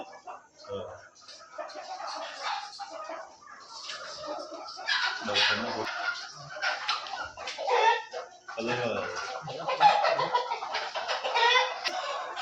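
Country-breed chickens cluck and a rooster calls repeatedly amid a busy farmyard, with people talking nearby over the birds.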